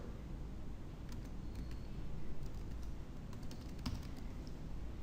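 Keys on a computer keyboard clatter in quick light bursts while a username and password are typed, close and quiet over a low steady room hum.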